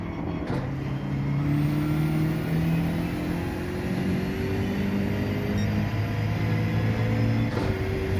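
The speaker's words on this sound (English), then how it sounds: "This is the BMW M6" A BMW M6 Endurance race car's engine revs and drones through gear changes in a racing game, a steady, loud mechanical note with rising pitch across several seconds.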